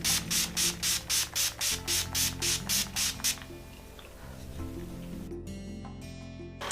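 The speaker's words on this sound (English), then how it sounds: "I'm going to basically drench my face in this setting spray." Urban Decay makeup setting spray misted onto a face in about ten quick, evenly spaced hissing bursts, close and fairly soft, followed by quiet handling sounds.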